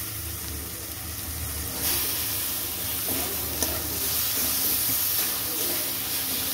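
Boiled tomato goes into a pan of onions already frying in oil, and a steady close sizzle and hiss fills the whole stretch, rising slightly as the tomato hits the hot pan.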